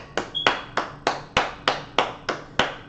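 Hands clapping in slow, evenly spaced single claps, about ten sharp close strikes in a steady rhythm with nothing else around them.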